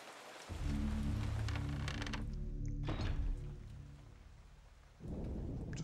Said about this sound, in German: Der Regen wird lauter.